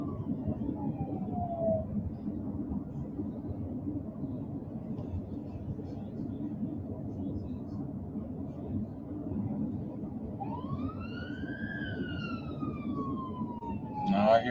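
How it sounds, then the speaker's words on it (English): A wailing siren rises and falls some distance away over a low rumbling background, sweeping up in pitch near the end. "Now I hear a siren."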